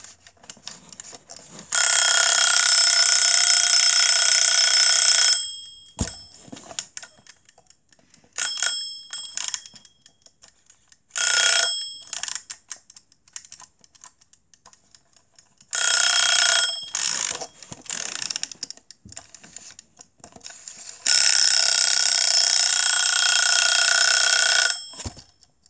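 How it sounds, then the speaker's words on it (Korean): A loud, shrill electronic timer rings in several long bursts with short pauses between them, close and piercing. "타이머 소리 들어보실래요?"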